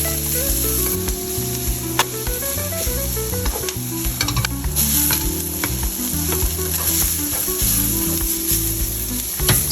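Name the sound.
garlic and onion sautéing in a pan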